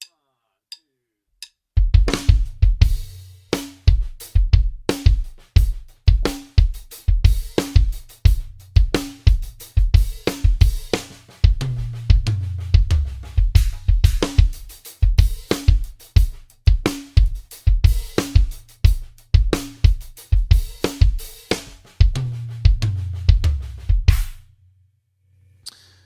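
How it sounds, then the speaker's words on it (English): Drum kit playing a right-left-left-kick sticking pattern as a groove in 16th notes, with a steady run of sharp hits and regular low kick thumps for about 22 seconds, then a brief pause. No talking. "So right, left, left kick in a groove context."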